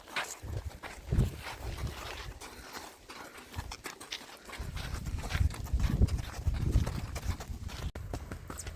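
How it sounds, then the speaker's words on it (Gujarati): A mare led along by a small boy walks with steady, moderately close clip-clopping hooves, an even rhythmic beat over faint background noise, with no talking. "નાનકડો છોકરો ઘોડી લઈને જાય જુઓ"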